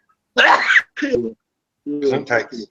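A single sneeze bursts out, followed by casual voices talking over a live online chat.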